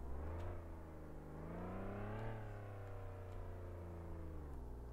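A police car engine in the driving simulator game Flashing Lights, a steady droning motor hum that rises and falls in pitch as the revs shift, continuous and heard without talk.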